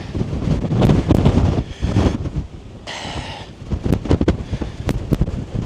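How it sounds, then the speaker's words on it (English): Strong winter wind batters a Dartmoor hilltop, roaring in heavy gusts that buffet the microphone, with brief lulls between loud rushing blasts. "it is blowing a hoolie up here"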